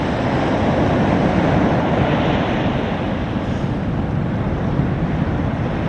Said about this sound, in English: there's a sudden influx of waves